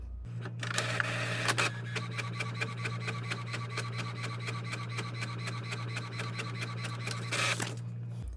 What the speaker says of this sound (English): I'm going to stick it into my printer and just make sure it's all the way back. I'm going to stick it in, and then I'm going to click print.